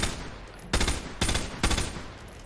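FAMAS rifle fire in the MW2 Remastered video game, with three short, loud bursts of rapid shots spaced apart over a steady background hum.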